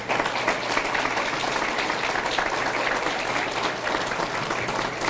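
Sustained, loud crowd applause fills a grand opening and ribbon-cutting ceremony for the Capitol Museum in Oklahoma, dense even clapping from many hands continuing throughout without pause.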